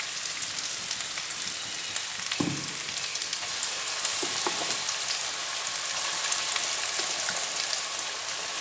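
Nalleru chutney sizzles and fries in a pan with onion and a pinch of asafoetida, a continuous bright crackle with occasional stirring scrapes, close and alone without talk.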